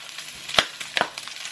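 Garlic and onion hitting hot oil in a pan while sautéing ampalaya with pork, giving a couple of sharp spattering pops over a faint sizzle, close by.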